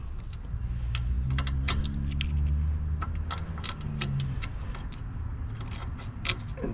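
A screwdriver works behind the bumper of an LLY truck to pry off a clip, making small metallic clicks and scrapes over a steady low hum of background noise. No voices are heard.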